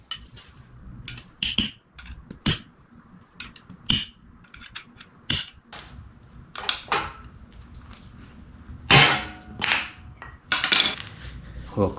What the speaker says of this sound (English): pry this old gasket out from the back side